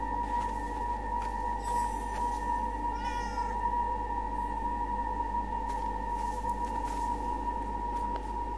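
A cat in the video game Forspoken gives a few short meows, rising chirpy calls heard over a constant low game hum and steady tonal drone, fairly faint against the background with no talk.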